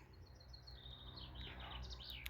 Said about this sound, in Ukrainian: Ой, пташки співають, дивіться, яка краса.